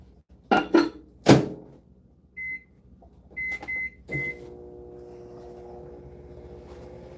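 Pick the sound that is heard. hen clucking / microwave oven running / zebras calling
microwave oven running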